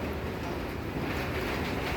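A train moves along a railway near a station, a steady broadband rumble of wheels and carriages that stays loud and even throughout, with no voices.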